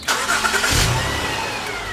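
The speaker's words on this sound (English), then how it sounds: "So at this time, start your car." An Acura ZDX engine cranks and catches, then settles into a steady idle, heard up close with no voices.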